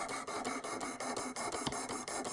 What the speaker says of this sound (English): You can tell that new edge is being created with this stone.